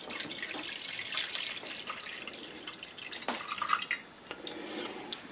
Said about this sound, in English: Now we have a cup full of pan drippings, and we will pour this in with the chicken stock.